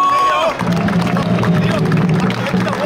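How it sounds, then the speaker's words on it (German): An outdoor crowd at the Landshut Wedding festival in Bavaria claps and murmurs for a juggler named Leo, the applause mixed with loud babble and a voice over it. "Applaus für Leo!"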